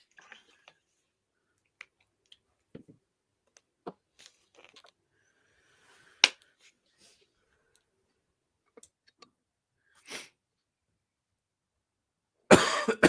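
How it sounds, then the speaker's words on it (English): A few sharp coughs ring out at intervals, including a loud burst near the end, with faint clicks and quiet background between them. "that cough sounds pretty persistent there"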